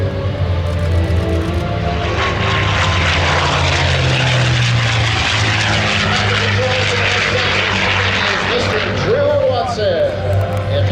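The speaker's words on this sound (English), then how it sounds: "Another good look at the Mustang from our left." A North American P-51 Mustang warbird in marine colors flies past with a steady, loud propeller engine drone, continuous throughout, with a low rumbling hum and broad roar.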